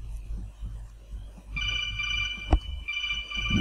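A cell phone rings with an electronic ringtone, a steady bright ringing that starts partway through and carries on loudly over low background rumble, with a single thud in the middle.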